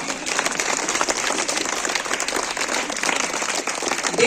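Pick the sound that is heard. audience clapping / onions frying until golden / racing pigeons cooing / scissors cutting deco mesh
audience clapping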